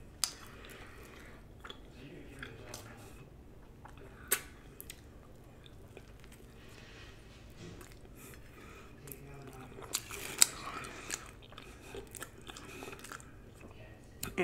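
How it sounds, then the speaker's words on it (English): Close, quiet chewing and biting of a messy jalapeno cheddar fluffernutter sandwich with peanut butter and marshmallow, with soft sticky mouth sounds and occasional crunchy clicks, no talking. "It is a lot of chewing."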